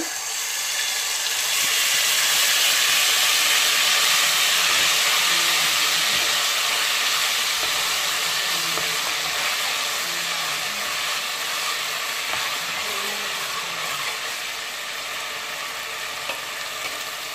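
Loud, continuous hissing sizzle of spices frying in hot oil, steady and close, with faint clicks of a utensil underneath.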